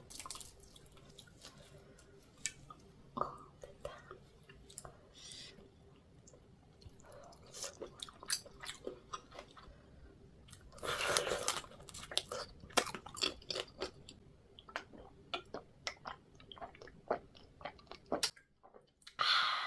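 Spicy mala crayfish being eaten up close, with soft wet chewing, crunching shell and little slurps and drips, quiet and intermittent, building to a denser burst midway.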